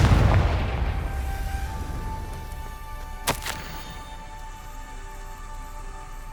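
Spell blasts and explosions from the Hogwarts Legacy video game on PS5: a loud, broad boom at the start decays into a rumbling wash, with a single sharp crack-like burst about halfway through, over steady game ambience.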